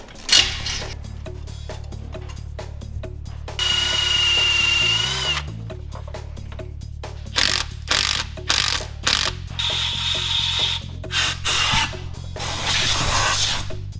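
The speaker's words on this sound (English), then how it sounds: "So we'll drill it out and we'll put a helicoil in it." Power drill drilling out a stud hole for a helicoil insert, whirring in repeated bursts, close and loud, with pauses between runs and clanking tool noises in the gaps.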